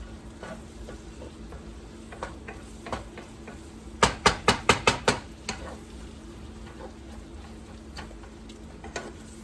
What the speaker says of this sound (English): So I'm going to get those sauteing in the butter.